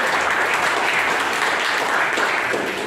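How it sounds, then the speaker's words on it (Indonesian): A room full of people bursting into steady, loud applause for a classmate named Rosa, dense clapping sustained for a few seconds without speech. "Kasih tepuk tangan buat Rosa."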